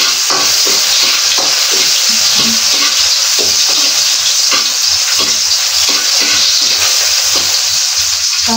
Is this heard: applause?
no